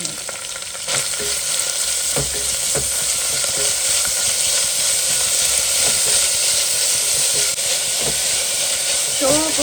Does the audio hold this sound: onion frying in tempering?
yes